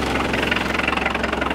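Diesel engine of a VW T25 camper van, a Holdsworth hi-top, idling with a steady, loud, rhythmic low throb and a knocking pulse, heard alone without speech.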